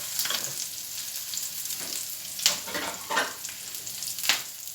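Steady oil sizzle of garlic frying in a pan close by for saag, with a few louder crackling bursts as something is stirred or added; no voices.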